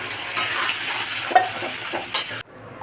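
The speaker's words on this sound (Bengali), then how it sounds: "তো এখন এর মধ্যে ছোলার ডালটা দিয়ে দেব।" Chana dal tipped into a pan of spiced masala frying in oil with turmeric, a steady close sizzle with stirring scrapes and a couple of clinks before the sound cuts off abruptly near the end.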